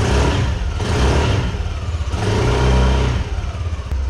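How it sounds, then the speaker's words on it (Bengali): Exhaust note of a 2021 premium scooter while riding, a steady, fairly loud engine drone that swells as it revs and pulls, with no talking over it. "এক্সস্টের সাউন্ডটা কিন্তু দারুণ, যে কোনো স্লোভে উঠলে বা ইয়েতে উঠলে"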